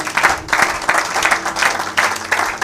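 A church congregation claps at a worship service, steady rhythmic applause in repeated bursts with no one speaking over it.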